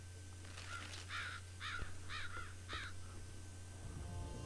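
Crows caw in the video game Infected, about six harsh calls in an uneven series over a steady low hum, fairly close and loud, with no talk.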